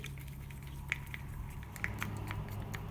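Acrylic pour paint, honey-like in consistency, being stirred in a cup makes soft, wet squishing and occasional light clicks against the container, steady and fairly quiet.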